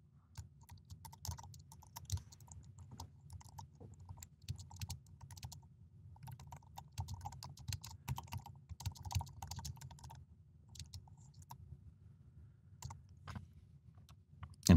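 Typing on a computer keyboard while composing a Twitter reply, a steady run of close, light key clicks over about fifteen seconds, broken by brief pauses.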